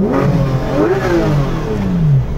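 A Porsche 911 GT3 (991.1) flat-six engine revs hard in neutral several times close by, the pitch rising and falling in quick sweeps with a raspy, throaty exhaust tone.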